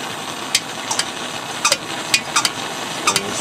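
Kerosene blow torch burning with a steady broadband roar, close and loud, broken by scattered sharp ticks and clicks.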